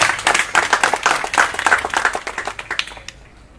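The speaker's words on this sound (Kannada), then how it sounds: "ಅವರಿಗೆ ಒಂದು ಜೋರಾದ ಚಪ್ಪಾಳೆ." Audience applause at a talk in an Ayyappa Swamy temple, a loud burst of many hands clapping close by, thinning out toward the end.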